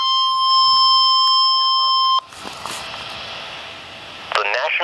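Emergency Alert System tones for a National Weather Service special marine warning: a loud, steady dual-tone alert sounds for about two seconds, then cuts off abruptly, followed by quieter broadcast noise and a brief burst of voice at the end.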